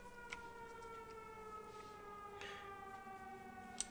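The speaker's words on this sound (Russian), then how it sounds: "Раз уже сирена зазвучала." A siren wails in a survival video game, a faint steady multi-toned drone with a few soft clicks and a brief sharp tap near the end, heard alone.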